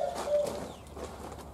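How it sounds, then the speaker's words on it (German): A bird coos softly nearby in rural Thailand, giving a few low calls over quiet background noise, with no speech. "Da ist sogar noch der Vogel drin hier."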